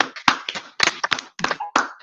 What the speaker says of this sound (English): we can give Obolube and Adeyeshi a round of applause